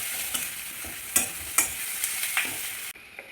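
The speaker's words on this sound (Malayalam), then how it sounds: "സവാള ഇട്ട് നല്ല വഴറ്റുക" Sliced onions sautéing in a hot pan for tomato rice, with a steady sizzle broken by several sharp scrapes and stirs of a spoon before the sound cuts off abruptly.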